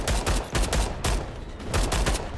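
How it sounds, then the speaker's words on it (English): Rapid bursts of gunfire from the sci-fi shooter game Starship Troopers: Extermination, loud and close, with repeated volleys clustered in quick succession and brief pauses between them. "I'm shooting."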